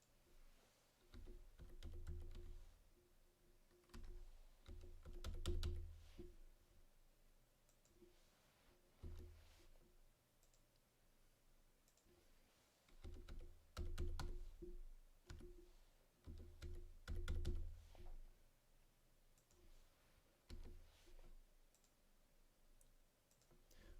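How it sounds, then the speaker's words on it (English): Rapid clicking of numbers being typed on a computer keyboard, coming in bursts of quick keystrokes with short pauses between runs, close and clear with no talking. "I'm going to go ahead and type the numbers to see if I can speed things up a little bit."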